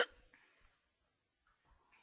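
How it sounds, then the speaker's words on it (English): A cartoon character's fit of hiccups in a children's animated story, a couple of short, quiet, isolated hiccup-like bursts separated by brief silences. "giving him a fit of hiccups"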